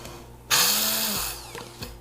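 An immersion blender whirs to life abruptly with a high motor whine, runs for under a second with no liquid in the cup, then winds down, followed by a couple of short bumps.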